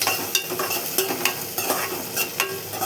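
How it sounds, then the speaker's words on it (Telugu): Broad beans with curry leaves stirred and frying in a pan: a steady sizzle runs throughout, punctuated by repeated scraping strokes of the stirring spoon, close and clear with no talking. "తర్వాత బాగా కలపాలి. ఈ పచ్చి వాసన అంతా పోవాలి, కొంచెం వేగాలి."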